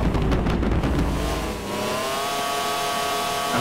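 The Bugatti Veyron's 16-cylinder engine in GTA 4 revs hard and accelerates, starting with a loud, gritty roar and easing into a smooth, rising drone.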